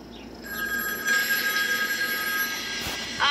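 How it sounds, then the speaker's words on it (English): A cartoon telephone rings with a steady, bright electronic trill that holds for several seconds over a faint background, close and fairly loud, with no talking. "get the phone."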